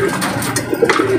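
Racing pigeons cooing in a loft, several soft, close, repeated throaty coos over a busy background of other birds.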